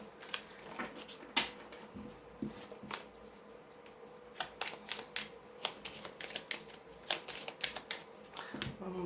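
Oracle cards being handled and shuffled close up, a quick series of crisp riffling flutters and soft slaps, irregular and fairly quiet, with no talking.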